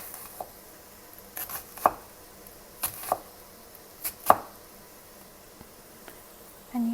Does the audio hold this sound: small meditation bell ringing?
no